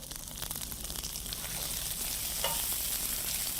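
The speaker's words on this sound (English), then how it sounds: "So we've got our onions, cooking this on medium-high." Onions sizzle with chorizo in a pan over medium-high heat, a steady, close frying hiss that builds slightly, with faint stirring and no voices.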